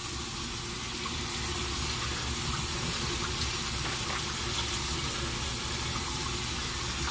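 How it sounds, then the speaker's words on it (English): An aloe vera loofah rinsed under a running bathroom or kitchen tap, steady close water stream splashing continuously into a sink with a broad hissing wash and no voices. "We're gonna rinse this off first and clean it."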